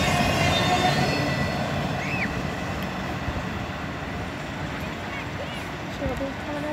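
A two-engine CSX intermodal freight train rumbles past up close in Folkston, Georgia, with a continuous heavy roar, rattling cars and occasional wheel squeals, while voices talk over it.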